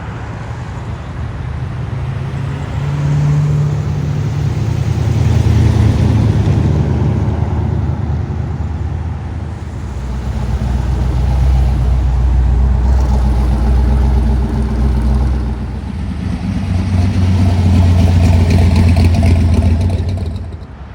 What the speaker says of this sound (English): There's another Starliner. It's about to unload off of this trailer here.